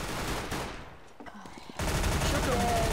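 Dense, loud gunfire in CS:GO fills the opening, breaks off into a brief lull, then returns as sustained rapid shooting.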